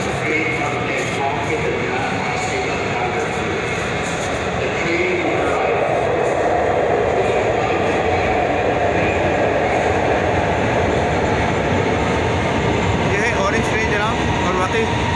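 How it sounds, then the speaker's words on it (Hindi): A train pulls into a station with a broad, steady rumble and rolling clatter that holds throughout, loud and close, with voices talking over it. "ट्रेन आ रही है।"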